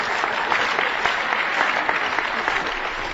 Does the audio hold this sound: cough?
no